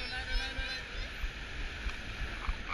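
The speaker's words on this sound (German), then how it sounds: "da kommen Wasserwellen" Water sloshes and splashes on the Piraña rapid river ride at Efteling, a continuous rushing wash with low thumps of the boat, while riders talk over it.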